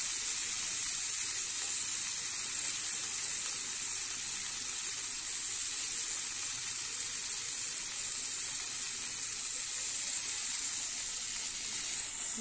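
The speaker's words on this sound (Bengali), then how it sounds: "যেগুলো কেটে রেখেছিলাম সেগুলো হচ্ছে হালকা হালকা করে ভেজে নেবো" Chopped carrot and potato fry lightly in a pan with a steady, even sizzle that holds at the same level from start to finish.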